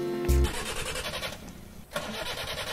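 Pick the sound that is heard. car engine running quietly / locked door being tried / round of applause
car engine running quietly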